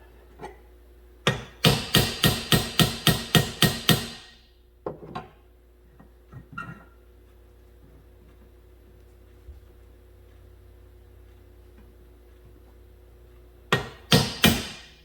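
Windshield wipers on a 2014 Buick Encore thump in a quick rhythmic series of loud clunks, go quiet apart from a few scattered faint knocks, then clunk again near the end.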